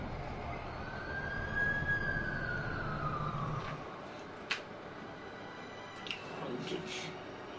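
An ambulance siren wails in a rising and falling sweep, fairly near, then cuts off, leaving street ambience with a few sharp knocks.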